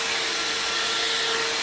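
A hair dryer blows steadily at close range while natural hair is being stretched out, a constant loud airy whoosh with a fixed motor whine and no break for the whole moment.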